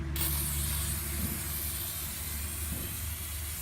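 Aerosol chain and cable lube sprayed onto a Chinese four-wheeler ATV, a steady close hiss running continuously for several seconds with a low hum underneath.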